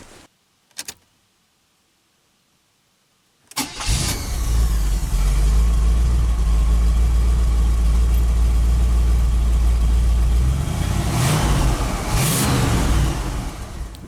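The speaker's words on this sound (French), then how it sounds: "Mais on peut entendre que le ralenti n'est pas trop mauvais." A 1977 Chevrolet Caprice fires up after a brief quiet stretch and a click, then settles into a loud, steady close-up idle with a deep rumble that swells twice near the end.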